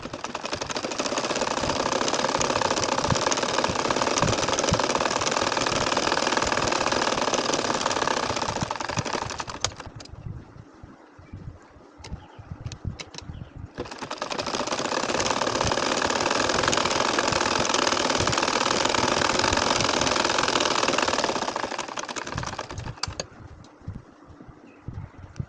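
Domestic sewing machine stitching a baby kantha quilt, a loud steady mechanical whir that runs for several seconds, stops briefly with light handling noises, then runs again before easing off.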